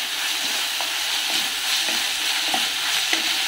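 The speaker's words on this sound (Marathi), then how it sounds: "आता यात मी घालते टोमॅटो. आणि टोमॅटो पण परतून घेते." Tomatoes fry for masala rice in a pan, a constant bright sizzle filling the clip, broken by several soft scraping stirs at regular intervals, close and without voices.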